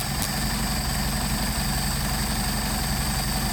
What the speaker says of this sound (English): It's giving us a 600 RPM idle